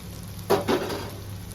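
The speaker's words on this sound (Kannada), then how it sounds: "ಗ್ಯಾಸ್ ಸ್ಲೋವಲ್ಲಿ ಇಟ್ಟು ಮಸಾಲ ಫ್ರೈ ಮಾಡಬೇಕು." Spice masala fries softly in a pan on a low gas flame for egg biryani, a quiet sizzle with a brief stirring scrape in the middle.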